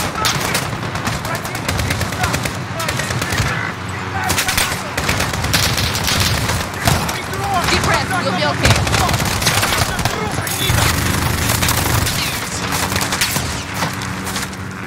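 Rapid automatic gunfire and booming shots pound through a Call of Duty Modern Warfare special ops co-op match, loud and nearly continuous, with game voices calling out over the fighting.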